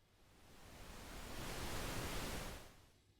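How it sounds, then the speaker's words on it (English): Pink noise test signal fed through a mixing console's master bus, a steady broadband hiss fading up gradually, holding full for a second, then pulled back down. "there you go, a little bit of pink noise."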